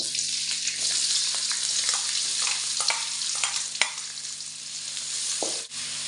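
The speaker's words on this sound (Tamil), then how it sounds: "வெங்காயம் பொடியாக நறுக்கி வச்சுருக்கேன் அதை சேர்த்துக்குவோம்" Finely chopped onions sizzle and crackle steadily in hot oil for a tempering, with occasional scraping stirs of a spoon against the pan, loud and close.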